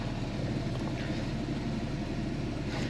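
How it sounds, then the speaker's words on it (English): A Porsche 911 Carrera S (997.2, PDK) with sports exhaust gives a steady, low engine rumble with a raspy exhaust note, droning evenly throughout without any talking. "it actually sounds like it's got the sports exhaust"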